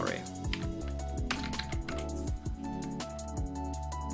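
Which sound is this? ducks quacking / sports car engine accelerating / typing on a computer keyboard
typing on a computer keyboard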